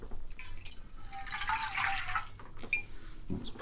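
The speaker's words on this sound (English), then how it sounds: "Aqua, water. Pour a bit in the cauldron." Water poured into a cauldron in a Tudor alchemy setting, a close, soft splashing trickle that swells in the middle and then tapers into drips.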